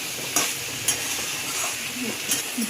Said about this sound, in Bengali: খুব ভালো করে নেড়ে দিচ্ছি, কচুটা গায়ে সব জায়গায় লেগে যাবে।